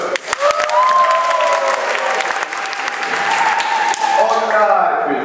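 Applause from an audience at a student spex comedy show during a teachers' kick-off event, a loud, dense burst of clapping that carries on steadily for several seconds, with some cheering mixed in.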